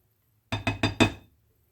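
A utensil clinks against a glass bowl while scraping out an egg yolk and mayo mixture for potato salad: four quick, evenly spaced bright taps, close and clear, then quiet, with no talking.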